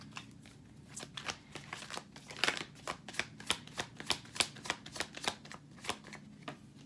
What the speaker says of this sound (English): I'm hearing pull 4 cards for you